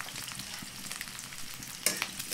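Potato, cauliflower and broccoli stems frying in a pan, giving a steady soft sizzle with light stirring scrapes and a brief louder crackle near the end.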